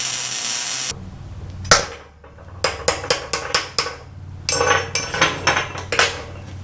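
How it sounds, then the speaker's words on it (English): Hammer strikes on metal while a piece is driven into place on the rear end of a Toyota Tacoma, a run of about six sharp ringing blows followed by a denser cluster of clanks, close and loud. "So we're going to hammer that piece in there."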